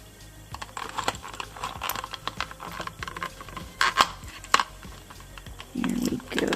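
Scissors snip through the plastic and cardboard packaging of a Made to Move Tennis Player Barbie doll, giving a string of close, crisp clicks and scratchy cuts with a duller rustle near the end.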